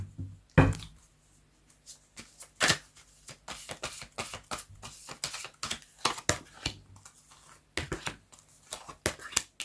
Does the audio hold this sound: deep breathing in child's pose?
no